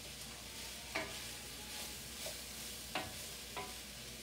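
Mushrooms cook in a pot of beef barley stew with a soft, steady sizzle, broken by a few brief scraping stirs spaced out across the clip.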